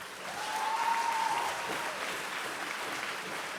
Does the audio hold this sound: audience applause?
yes